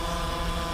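A drone's electric motors whir steadily in wind as it descends to land, a close, constant buzzing hum with no pauses.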